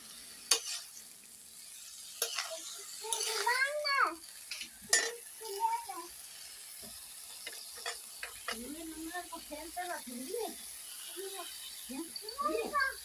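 Ingredients are stirred in a kadai while a jackfruit-based dish is being cooked. Scraping and clinking sounds come with a soft sizzle, and a voice talks over them throughout.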